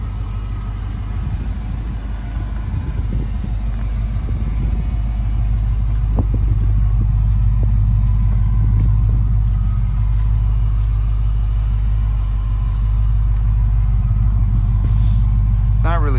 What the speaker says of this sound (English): I just did a cold start on it right now